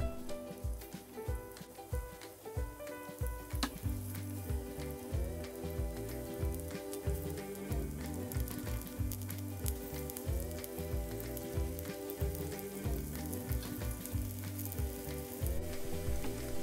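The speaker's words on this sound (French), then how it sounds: "On va laisser la base griller pendant 1 minute." Steady, dense sizzling of vegan gyoza frying in a hot pan, crackling and popping continuously throughout at a fairly even level.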